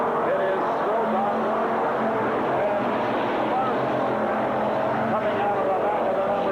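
Race cars roaring steadily around a WISSOTA dirt speedway oval after the green flag, a dense continuous engine drone with a commentator talking over it throughout.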